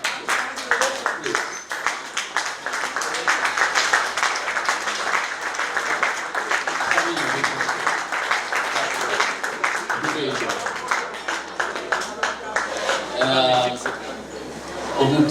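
A luncheon crowd at a club's 60th-anniversary celebration rises for a standing ovation: steady, sustained applause that carries on for the whole stretch, with voices and chatter mixed in.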